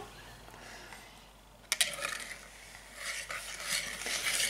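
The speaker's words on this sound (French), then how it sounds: "Noé, tu peux mélanger maintenant." Child stirring sugar and butter together in a mixing bowl, a few soft scraping and clinking strokes of the spoon against the bowl, close by, starting midway and getting busier toward the end.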